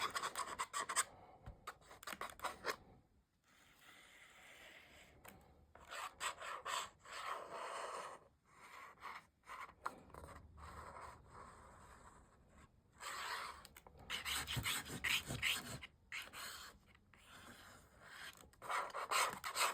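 Glue is brushed and rubbed over grey board surfaces for a handmade tag book, giving close, soft scratchy strokes in irregular bursts with brief pauses, no talking.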